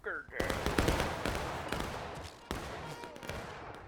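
A musket shot in the Civil War game War of Rights, Hagerstown Turnpike map, rings out as one sharp crack near the start, followed by scattered distant gunfire and a busy battlefield din.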